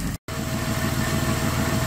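A car engine idling smoothly after a cylinder misfire was fixed, a steady close mechanical hum with an even low rhythm, broken by a brief silent gap near the start.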